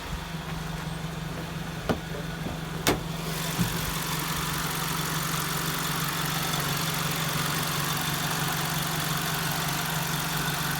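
A Honda Civic engine with 230,000 miles idles smoothly and quietly, a steady low hum with a couple of brief clicks early on.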